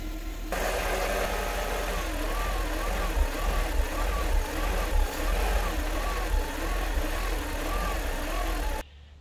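A Mercedes M119 V8 in an SL R129 idles with a steady low rumble and irregular uneven pulses as it hesitates, heard up close for several seconds before stopping.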